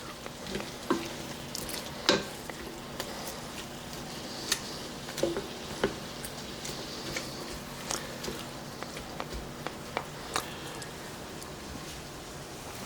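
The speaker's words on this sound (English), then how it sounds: "let's give this sausage another stir" Sausage sizzles and crackles in a pot for a Zuppa Toscana-style soup, with a steady low frying hiss broken by scattered clicks and sharp scraping ticks as it is stirred. The sound is close and moderately quiet, and no one speaks.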